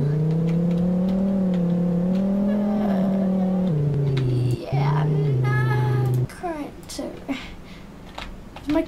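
A car in the Roblox video game drives with a steady engine drone that shifts pitch and cuts off about two-thirds through, followed by scattered lighter game sounds.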